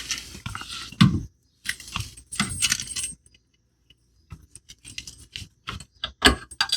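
A metal quick link on an RV Ultraguard rock guard jingles and clinks as it is handled and fastened to the frame, in several short close bursts separated by brief pauses.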